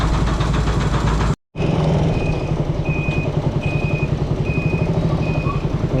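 Loud scooter engines rumble steadily and close by in a town centre, with a brief cut near the start before the droning continues unbroken.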